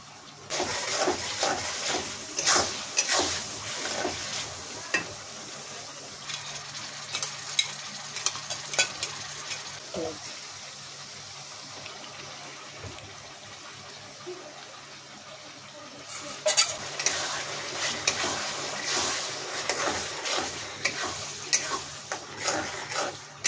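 Onions frying with salt in a pan for masala chicken, a soft continuous sizzle under repeated scraping stirs of a spoon, fairly close and moderately quiet throughout.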